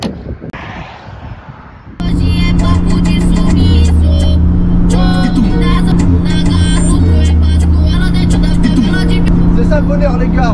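A BMW E30 330i engine pulls away after a quieter opening, then holds a loud, steady drone with rising rev sweeps and some sharp knocks as the car drives off, with music playing along.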